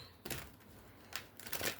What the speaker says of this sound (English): I want to give these cards a quick little shuffle also.